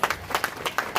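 An audience at a civic workers' ceremony inaugurated by a minister claps to honour the dignitaries. The claps are brief, sharp and rapid over about a second, close and moderately loud.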